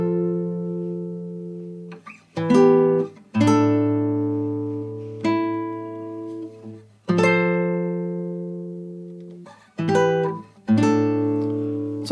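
A classical guitar in standard tuning plays the opening four bars of a song from Attack on Titan, with plucked chords and single notes that ring and decay in a slow, spaced rhythm, close and unaccompanied.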